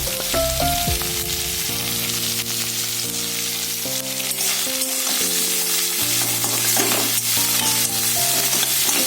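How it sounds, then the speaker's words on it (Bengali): Vegetables frying in a pan with radhuni seeds, salt and turmeric, stirred over a loud continuous sizzle, with background music playing throughout. "হলুদ দিয়ে ভালো করে নাড়াচাড়া দিয়েছি।"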